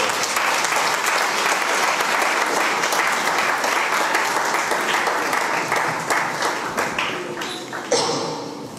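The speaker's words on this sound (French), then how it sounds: "Est-ce qu'on peut acclamer le Seigneur pour..." A church congregation at a Sunday service claps and cheers in a dense, continuous burst of applause that thins out toward the end.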